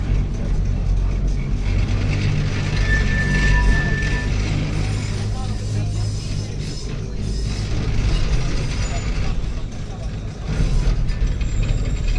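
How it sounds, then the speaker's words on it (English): Continuous mechanical rumble and clanking of running funicular railway machinery with a grinding, ratcheting texture, steady and fairly loud throughout. "a funicular, and we're going to ride it"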